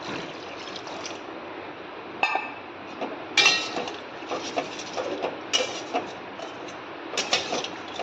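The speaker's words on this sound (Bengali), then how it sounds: "এবার এই উষ্ণ গরম জলটা দিয়ে দেব" Warm water poured into a pot of simmering fish curry with potatoes: a continuous splashing, bubbling wash of liquid with occasional metallic clinks of a utensil against the pot.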